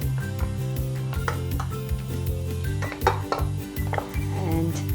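Rice being stirred together with cooked sambar and ghee in a pot for South Indian bisi bele bhat, giving steady close scraping and clinking of a utensil against the pot with soft mushy stirring.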